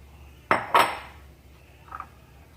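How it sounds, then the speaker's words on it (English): Flour, sugar, baking powder and salt going into a large mixing bowl for chocolate chip muffins, heard as two close clinks of containers against the bowl followed by a fainter tap, no talk. "now we're going to combine the flour into here in your large mixing bowl"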